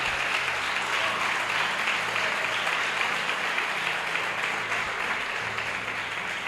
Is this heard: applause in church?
yes